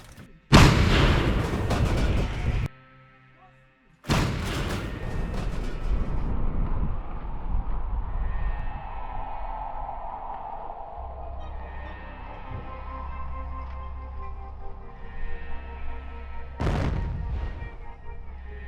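A massive blast from a Russian 2S19 Msta-S 152 mm self-propelled howitzer booms out, followed by another heavy shot a few seconds later, then a long rumbling echo and a third sharp report near the end.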